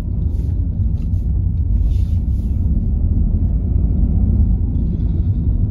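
A car engine labours in first gear while driving slowly toward a tight mini roundabout, a loud, steady low rumble heard from inside the cabin throughout, with faint brief clicks above it and no talking.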